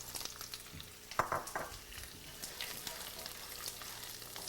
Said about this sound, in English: saute the garlic and flavor the oil